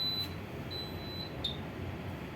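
A fire alarm control panel buzzer gives several short, thin beeps in an uneven pattern, faint over a steady room hum, with no talking.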